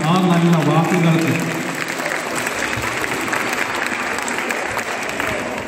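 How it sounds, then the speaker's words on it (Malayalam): A school audience claps steadily for John sir, a dense, loud wash of many hands that carries on for several seconds, with a voice heard briefly at the start. "വളരെ നമുക്ക് നല്ലൊരു കൈയടി ബഹുമാനപ്പെട്ട ജോൺ സാറിന് കൊടുക്കാം"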